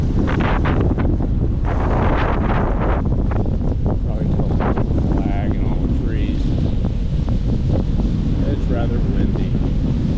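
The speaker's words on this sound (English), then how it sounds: "it's just as windy over here in Minnesota as it was." Strong wind buffets the microphone outdoors in Minnesota in autumn, a loud, continuous low roar with gusty rumbling throughout, and faint speech-like sounds briefly surface beneath it.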